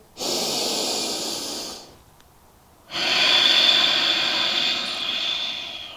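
Two deep, loud breaths during a yoga class: a long drawn inhale or exhale, a short pause of near silence, then a second long airy breath close to the microphone.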